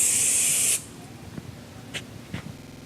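Cooking oil sprays into a 13 by 9 inch baking pan in one short, sharp hiss, followed by a few faint clicks and taps in a quiet room.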